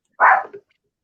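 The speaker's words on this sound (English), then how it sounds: "So my dogs are going crazy because my boyfriend's home" A single short, loud dog bark, close by, followed by a softer trailing yip, then silence.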